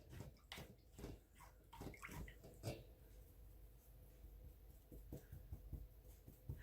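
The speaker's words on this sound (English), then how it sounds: "Now I'm going to rinse out my brush." A paintbrush being rinsed in a small container of water, quick close swishes and taps against the sides in uneven bursts, quiet and without talking.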